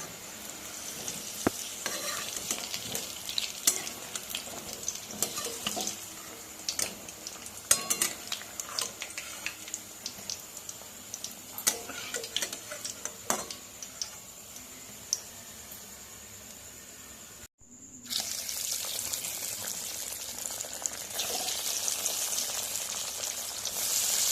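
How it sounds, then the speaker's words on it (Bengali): Dhoka lentil cakes frying in oil in a pan, a continuous close sizzle broken by metal utensil clicks and scrapes against the pan, with a brief drop to near silence before the frying resumes. "একইভাবে আমি সমস্ত ধোকাগুলো ভেজে তুলে নেব"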